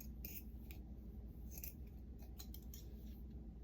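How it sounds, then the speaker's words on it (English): Scissors snip through a piece of cheesecloth for a bookplate, a few soft, close crisp cuts spaced irregularly over a quiet background. "So I'm going to cut just a piece of cheesecloth."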